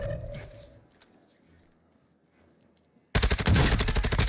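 Gunfire from the Warzone 2 video game: after a quiet, rumbling stretch, a loud, dense burst of rapid shots erupts and keeps going to the end.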